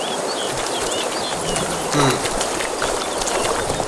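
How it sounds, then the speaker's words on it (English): Wings flap briefly as a bird takes off in The Witcher 3, a short fluttering burst rising out of steady outdoor ambience with faint chirps. "Bird flew off over the hill."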